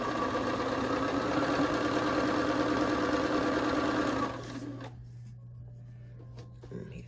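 Sewing machine chain piecing quilt pieces runs in a fast, steady motorized hum and needle rattle for about four seconds, then stops, leaving a low background hum with faint handling sounds.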